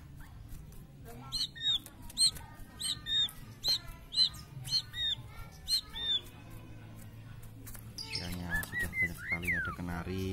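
A white-rumped shama of the Bahorok type sings a run of repeated sharp whistled phrases at close range, then breaks into a busier warbling burst near the end, over a low background hum.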